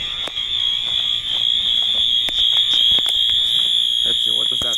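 Overfill alarm at a school sounds a continuous shrill electronic tone, loud and unbroken, with people talking faintly in the background.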